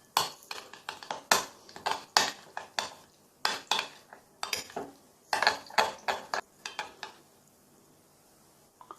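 Yogurt is stirred into a cooking pot for butter chicken, with a spoon clinking and scraping against the pot in quick rhythmic bursts, close and fairly loud, then tapering off.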